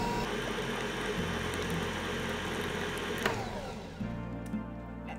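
A stand mixer fitted with wire whisks kneads cinnamon roll dough, its motor giving a steady, fairly loud whirring drone that shifts to a lower, smoother hum near the end.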